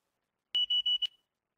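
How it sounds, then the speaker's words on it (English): An alarm beeps from a played recording: four quick, sharp, high-pitched electronic beeps in a tight burst, loud against silence. "Did you hear that alarm?"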